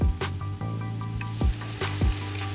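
Yogurt goes into hot, golden-browned masala for chicken yakhni pulao, giving a loud close sizzle with wet squelching and a few sharp pops and spoon knocks over about two and a half seconds.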